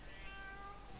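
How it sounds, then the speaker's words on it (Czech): A cat in the survival game Shelter 2 gives a single drawn-out meow with a gently falling pitch, faint and clear against a quiet background. "Ano, ano, mňoukej si, mňoukej."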